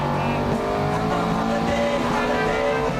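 The Stig drives a car flat out around the Top Gear test track, its engine roaring loud and continuous with a hint of tyre squeal, held close and steady throughout.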